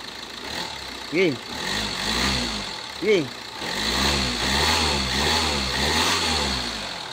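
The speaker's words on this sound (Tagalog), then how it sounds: "Gumagana yung turbo, yung boost nya." A Kia Sportage engine after a general overhaul revs in repeated swells with turbo boost, rising and falling in pitch under steady running, with two sharp bursts early on and brief talk in between.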